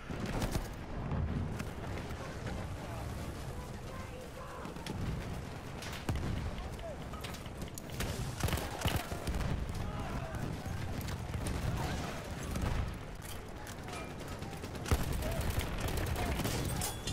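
Battlefield 1 gunfire from the Hellriegel assault build, dense overlapping bursts and fusillades with booming impacts filling the whole stretch, steady and loud with battlefield chaos and voices underneath.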